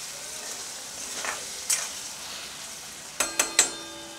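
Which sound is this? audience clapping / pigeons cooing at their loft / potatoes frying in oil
potatoes frying in oil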